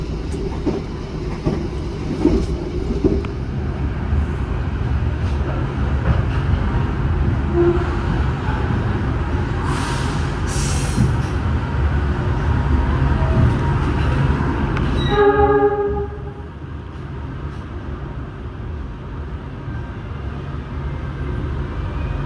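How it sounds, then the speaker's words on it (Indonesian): Mutiara Selatan passenger train running at full speed, 120 km/h, from Surabaya toward Bandung, heard from inside as a steady, loud rolling roar that drops abruptly to a quieter hum near the end. "kereta api Mutiara Selatan tetap di kecepatan penuh 120 km per jam dari Surabaya menuju ke arah Bandung"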